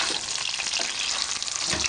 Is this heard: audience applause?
no